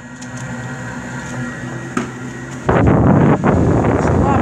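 A new furnace blower motor ramping from a quieter hum into its noisier second stage, jumping abruptly to a louder, stronger rushing airflow partway through and holding there.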